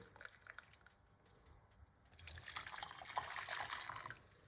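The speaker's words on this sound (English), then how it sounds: "I'm going to start off the process with a cup of water. Hot water is good to start it with." Hot water poured from a kettle into a medium-sized cooking pot, a soft trickle building into a steady gushing pour midway through, close and moderately quiet, with no talking.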